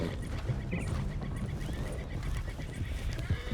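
A horse in a PlayStation video game whinnies loudly over a steady background of hoof clatter and ambient noise, with a sharper snort near the end.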